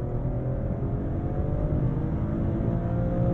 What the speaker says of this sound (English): the bark of the exhaust!